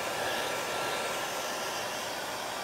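A hair dryer blows steadily on a craft project, a continuous, even, close whooshing hiss with no talking.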